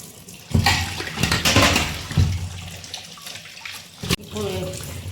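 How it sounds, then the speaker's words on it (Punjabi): Salted, sun-dried bitter gourds are rinsed under running water in a home kitchen, with steady splashing and gushing throughout and a voice speaking at times over it. "ਕਰੇਲਿਆਂ ਨੂੰ 2-3 ਘੰਟੇ ਦੀ ਧੁੱਪ ਲਵਾਉਣ ਤੋਂ ਬਾਅਦ ਇਹਨਾਂ ਨੂੰ ਮੈਂ ਧੋ ਰਹੀ ਹਾਂ ਜੀ"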